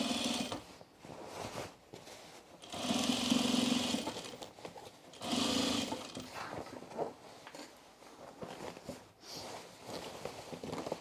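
Top stitching on overalls, a sewing machine runs in two short bursts of a few seconds each, fairly faint, between quieter stretches of fabric handling and rustling.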